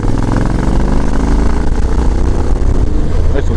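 A Honda X-ADV motor scooter's engine runs in a loud, steady, low drone, heard close up and without pause, on an evening ride in hot weather in Pattaya, Thailand.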